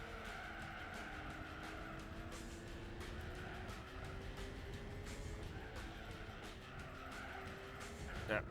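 Tyres squeal in a long, steady skid as a racing car oversteers in Gran Turismo 4, the engine droning underneath with a sharper burst near the end.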